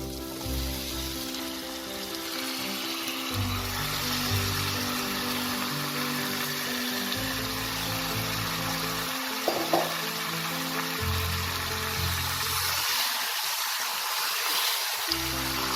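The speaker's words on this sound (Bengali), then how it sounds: "এতে আমি এবার ম্যারিনেট করা চিকেনটা দিয়ে দেবো।" Marinated chicken hitting hot spiced oil in a kadai, giving a steady, close sizzle and frying hiss with low stirring rumbles that drop away briefly near the end.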